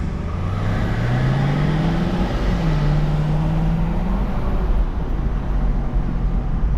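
Inside a Cadillac CTS-V on a midday drive, the supercharger whine climbs in pitch under a deep engine and road rumble, dips briefly at a shift, then rises again, loud throughout.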